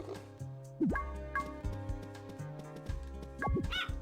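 A dog in the farming video game Harvest Moon Magical Melody gives a few short, high yips and whimpering barks in quick succession over a steady backing melody.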